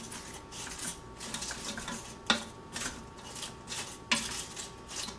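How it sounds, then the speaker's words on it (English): Onions and cabbage stirred in a coated Ninja Foodi pan, with repeated scraping and clinking of the utensil against the pan, two sharper knocks standing out, over a faint steady sizzle, close by with no talking. "So I'm just going to stir the onions up, kind of mix it up with the cabbage"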